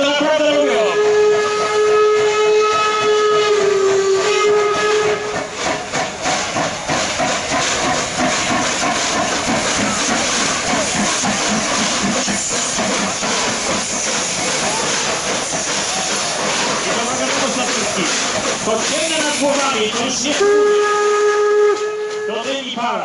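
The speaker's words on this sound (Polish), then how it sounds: "To dym i para." Steam locomotive at a steam engine parade in Wolsztyn, its whistle sounding loudly at the start and end with a continuous heavy hiss of released steam filling the stretch between.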